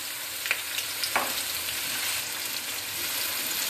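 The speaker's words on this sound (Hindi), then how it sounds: "ऑयल गर्म हो चुका है तो इसमें मैं प्याज ऐड करूँगी और प्याज़ों को अच्छे से ब्राउन" Onions hitting hot oil in a pan for a spicy creamy dal mash, a steady close sizzle with a couple of sharp crackles early on and no one speaking.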